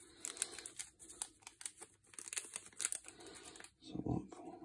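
Scissors cut open the foil wrapper of a Star Wars Unlimited booster pack, producing close, soft crinkling and snipping rustles in irregular bursts, with a person talking faintly in the background.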